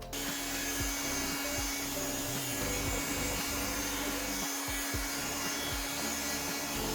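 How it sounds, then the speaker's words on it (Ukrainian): A steady, loud whooshing hum of a hair dryer heating a glued grille on a MINI One F56 runs continuously throughout, with faint rubbing and handling noises underneath. "Беремо такого червоного друга, як фен, нагріваємо."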